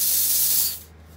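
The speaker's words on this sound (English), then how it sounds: "Let's spray it." A mulled wine scented room spray gives one loud, close, hissing spritz lasting under a second, then cuts off into quiet.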